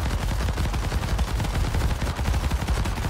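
A teammate's gun fires rapid automatic bursts in a robot battle game, dense and continuous over a low booming rumble. The bursts are loud and close, with no speech over them.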